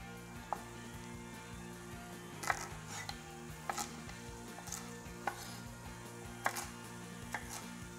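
A knife chops artichokes into pieces on a board, giving sharp, irregular knocks spread over several seconds above a steady low kitchen hum.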